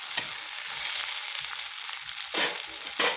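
Potatoes and onions fry in a pan for a crab dish, giving a steady bright sizzle with louder stirring scrapes near the end, no voices over it.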